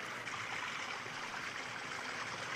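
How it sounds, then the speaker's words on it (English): Water trickling out of small holes in the bottom of a brass kitchen ladle, making a soft, continuous hissing shower, faint and steady throughout with no voices. "then the water trickles out the little holes, making a small shower"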